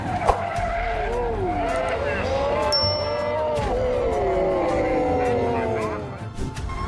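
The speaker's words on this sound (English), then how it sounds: "Oversteer into the barrier." A car skids with long, wavering tire squeals as it oversteers into a barrier during a high-speed police chase, the screeching loud and continuous over an engine drone, with a voice talking over it.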